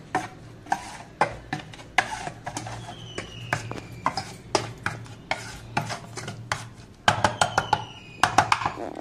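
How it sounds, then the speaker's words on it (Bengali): A spoon or spatula scrapes and clinks against a pan while garlic and chilli lemon Maggi noodles are mixed, giving irregular sharp knocks and rubbing strokes, close and fairly loud, with faint talk in the background. "এবার এটাকে মিক্সড করবি"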